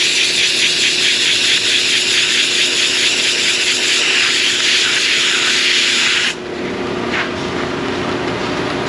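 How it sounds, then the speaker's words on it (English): A brake lathe resurfaces a brake rotor in an auto repair shop, giving a continuous loud grinding rub that drops to a quieter, lower whir near the end. "Let's go check that rotor out on the lathe."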